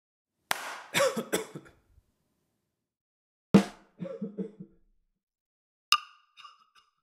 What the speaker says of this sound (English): your snare drum reverb will have a kind of coughing sound in the background